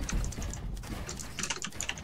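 Rapid, close computer keyboard typing during a one-versus-one Fortnite Creative Mode match, a dense run of loud clicky keystrokes without pause.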